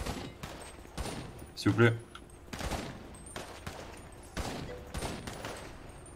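Sharp gunshots from players firing at a target ring out roughly seven times at uneven intervals, moderately close, with one louder, heavier burst near the middle and a voice briefly talking between shots.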